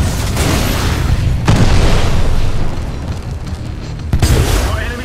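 Enemy units blowing up in Titanfall 2 during a Scorched Frontier Defense match: heavy booming explosions over a dense rumble of game battle noise, with a sharp new blast near the start, another around the middle and one toward the end.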